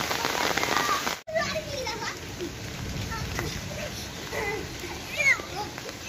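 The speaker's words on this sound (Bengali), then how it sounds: "মুষলধারে বৃষ্টি হচ্ছে আমাদের এলাকায়" Heavy downpour of rain during a monsoon shower, a dense steady hiss of falling water close by, with children playing and talking over it and a brief dropout just after the start.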